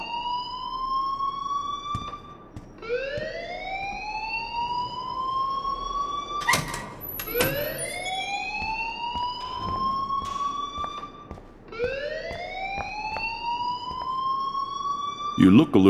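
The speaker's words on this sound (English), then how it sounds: "please turn off that alarm since that's your job" An alarm rings in the video game Life is Strange, a repeating wailing tone that rises and falls in long sweeps. Sharp clicks and bangs break in between the sweeps, and a voice talks faintly underneath.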